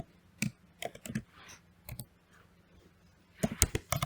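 Python code is typed on a computer keyboard in irregular bursts of crisp clicks with short pauses between, close and clear, no talking.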